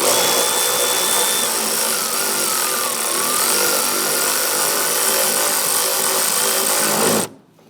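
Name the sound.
tightening a bolt on a Jeep oil filter housing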